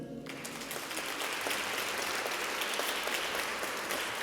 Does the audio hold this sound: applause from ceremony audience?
yes